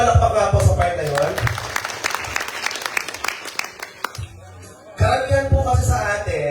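Audience applause at a barangay campaign caucus, a burst of many hands clapping in the middle that fades out, with a speaker talking before it and again after it.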